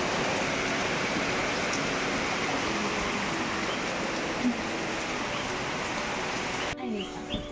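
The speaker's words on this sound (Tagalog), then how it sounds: "Grabe ang lakas ng ulan." Heavy rain falls at night as a dense, steady hiss that fills the whole stretch. It stays uniform and fairly loud until a brief disturbance near the end.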